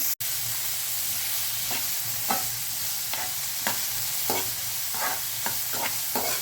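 Chopped onion frying and being stirred in a pan with mustard seeds, for a matar batata sabzi: a steady close sizzle broken by repeated scraping strokes of a spatula, with no one talking.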